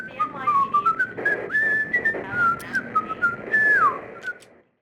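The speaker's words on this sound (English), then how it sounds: "From inside, you can hear the carefree symphony of someone whistling." Someone whistles a carefree, wandering tune from behind a bathroom door in the Max Payne video game, a clear, slightly muffled melody of short and sliding notes that fades out at the end.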